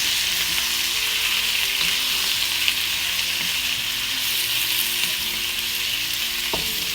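Tomato paste, spices and Maggi cubes being mixed in a frying pan, a strong steady sizzle with occasional light knocks of a spoon against the pan, no voices.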